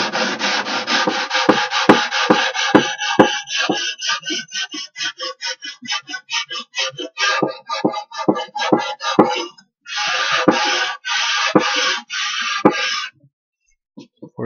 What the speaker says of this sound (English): that side is done too, and then the sanding block again